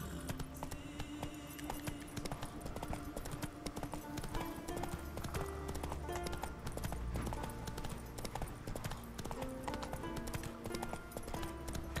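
A horse's hooves clip-clop at a steady rhythm while riding in The Witcher 3: Wild Hunt, with game music and ambient sound running continuously underneath, no talking.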